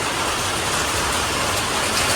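Heavy rain pours down steadily during a May storm, a dense, loud and continuous hiss with no voices.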